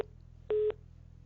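A single short electronic telephone tone on a failing phone call, a clean steady pitch lasting about a fifth of a second over faint line hum, quiet and with no voices.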